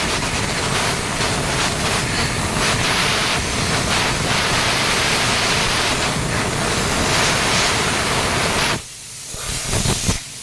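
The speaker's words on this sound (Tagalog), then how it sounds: "binumbahan ng hangin, no, para magtalsikan yung mga dumi sa mga sulok-sulok" A loud, steady hiss of compressed air blows dirt out of the corners of a Honda CR-V for several seconds, then cuts off abruptly.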